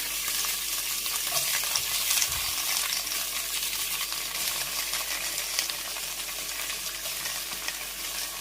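Mixed vegetables for aviyal tumble into a pot with a steady, close sizzle and faint stirring scrapes. A couple of small clinks sound, and no one speaks.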